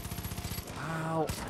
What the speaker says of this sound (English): I really need to get an assault rifle with less recoil.